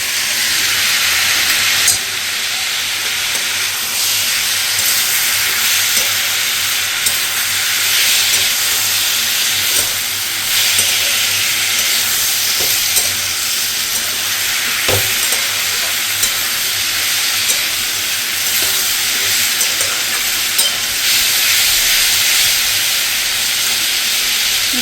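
Chopped tomato fries slowly in a pan for a fish curry, giving a loud, constant hiss and sizzle close by, with a few soft stirring clicks and no voices.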